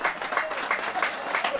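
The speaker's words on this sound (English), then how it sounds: "And you can hear the round of applause for Naoto Matsukura." A brief burst of applause from a crowd at a 1/8 scale nitro RC car world championship, steady clapping at moderate distance.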